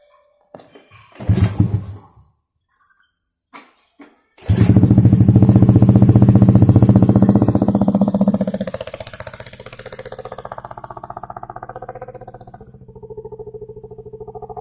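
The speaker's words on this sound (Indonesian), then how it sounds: "Kita langsung nyalain mesinnya." A Honda Beat scooter's engine cranks with a few short clicks and bursts, then catches and roars loudly through a newly fitted aftermarket exhaust before settling into a steady, throaty idle close by.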